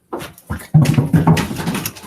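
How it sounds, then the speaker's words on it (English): A pet dog whimpers and whines indoors in a few short bursts, close and fairly loud, with a longer stretch of whining and snuffling at the end. "I got the dog."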